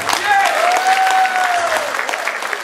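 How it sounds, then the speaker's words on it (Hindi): Audience at a concert in Sydney, Australia applauding loudly and steadily, with a sustained sung or spoken tone carrying over the clapping. "इनके लिए तालियां जरूर बजी।"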